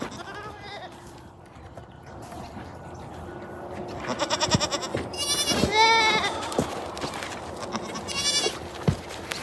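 Several goats and sheep bleat close by, overlapping cries growing louder and more frequent, with some thumps and shuffling of animals.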